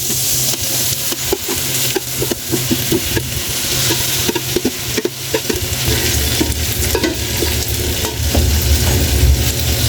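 Chopped tomatoes sauté in a hot pan for a mung bean and vegetable stew, with a steady close sizzle and repeated scraping stirs running throughout.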